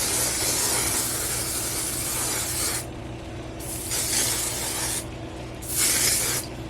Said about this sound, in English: This hairspray is actually curly girl friendly.